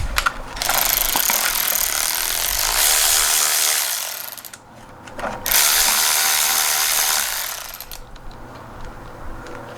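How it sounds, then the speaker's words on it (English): A ratchet wrench torquing down bolts on a Subaru BRZ engine build, close and loud, in two long bursts of rapid clicking separated by a short pause, with no talking. "we can actually get this stuff torqued down now"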